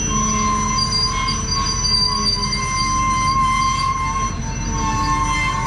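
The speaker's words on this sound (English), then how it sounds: "Hauling out the last train we filled." A freight train loaded with corn rolls past with steady rumbling and long, high-pitched wheel squeals sustained throughout, loud and close, with no voices.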